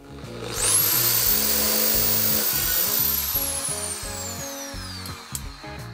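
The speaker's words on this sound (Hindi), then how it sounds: "जैसे किसी चीज में होल करना हो तो इस प्रकार से कर सकते हैं।" A power drill bores a hole during a DIY tools demonstration, a steady loud whine with a high rising tone that holds for several seconds and then slowly falls away.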